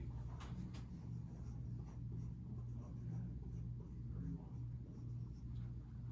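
A marker or chalk writes an equation on a classroom board, a faint steady scratching over a low background hum in a quiet room.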